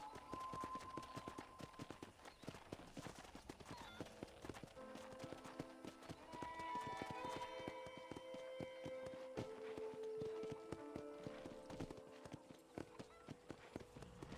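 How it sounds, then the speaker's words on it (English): Steady clip-clop of horse hooves at a riding pace in Red Dead Redemption, with a light musical backdrop and occasional snorts, continuing throughout. "let's see if you can still ride a horse"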